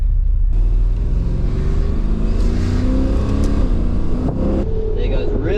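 An LS1 V8 in a VN Commodore revs up loudly and close, with rising and falling throttle blips and a deep rumbling tone, while someone talks over it.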